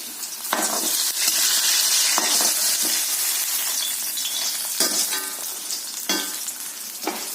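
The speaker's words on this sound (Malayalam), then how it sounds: "മാവ് കൂടെ എണ്ണയിൽ ഒഴിച്ച് വറുത്തെടുക്കാം" Loud, continuous sizzling of leftover banana fritter batter frying in hot oil, broken by a few sharp clatters of stirring.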